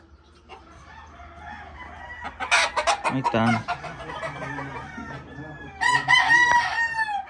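Roosters crow and hens cluck nearby, with a couple of loud crows standing out and brief speech in the background.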